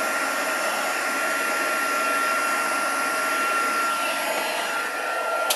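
A heat tool blows hot air onto a heat-embossed card from the back, a loud, steady whooshing drone held close and unbroken throughout, no voice.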